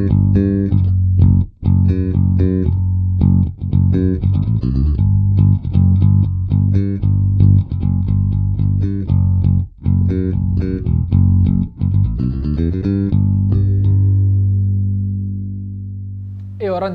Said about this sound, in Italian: Sentiamo ora come si comporta il nostro GNDL sulla MicroTubes col plettro.